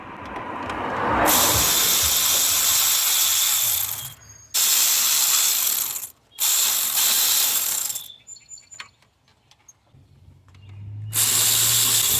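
Power ratchet loosening 10mm valve cover bolts on a 2001–2004 Nissan Pathfinder 3.5L, loud whirring bursts of several seconds broken by short pauses, followed by scattered small metallic clicks and a final burst.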